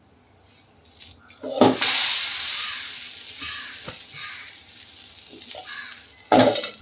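Bhagar (barnyard millet) thalipeeth cooking in a pan, a steady broadband sizzle with bursts of scraping and stirring, loud and close, with a strong surge near the start and another at the end.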